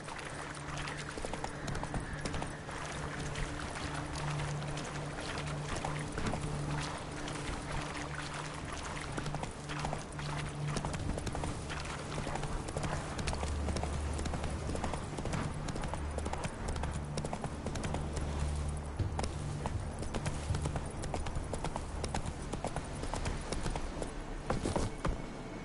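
A horse gallops with steady, rhythmic hoofbeats through a swampy area in The Witcher 3 on PlayStation 5, a continuous clip-clop heard alongside faint ambient game sound, with no talking.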